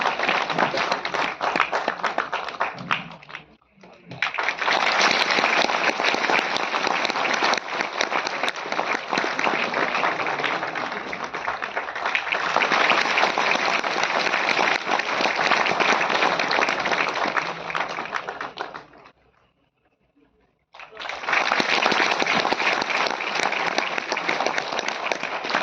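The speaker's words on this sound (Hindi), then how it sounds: "एक बार जोरदार तालियां हो जाए।" Loud, sustained applause from an audience at a Delhi railway goods-shed workers' union programme, filling the space in two long waves with a brief lull between them and no talk over it.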